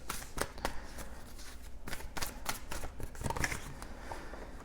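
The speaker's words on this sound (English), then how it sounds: "Accidentally shuffled those cards." Tarot cards are shuffled in a series of quick riffling bursts, soft and close, with brief pauses between the flurries.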